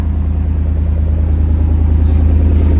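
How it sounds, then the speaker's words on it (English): Steady, deep idle burble from a RAM 2500 pickup's 6.4L HEMI V8 breathing through a Carven exhaust with the resonator deleted and a 4-inch tip, a loud, even rumble with a slight pulsing lope throughout. "Ram 2500 with Carven TR. Resonator delete, 4-inch tip."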